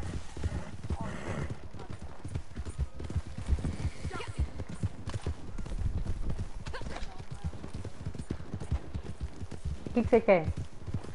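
Horse hooves clip-clop at a walk in Red Dead Redemption, an uneven run of soft thuds with brief whinny-like sounds, heard under two people talking.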